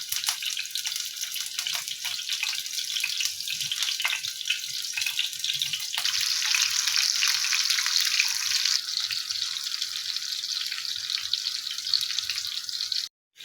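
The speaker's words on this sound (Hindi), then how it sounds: "अब हम इसको फ्राई करेंगे।" Kebabs fry in hot oil over a slow flame, giving a steady, close, dense sizzle that carries on without a break and grows slightly brighter partway through before cutting off at the end.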